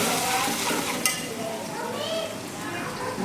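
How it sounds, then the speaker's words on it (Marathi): Chickpea masala with added tomato puree frying and being stirred in a pan, a steady close sizzle with scraping stirs and one sharp utensil clink near the start; no one speaks. "मस्त फ्राय होऊ द्यायचं आणि त्यामध्ये आपल्याला टमॅटोची प्युरी टाकायची आहे."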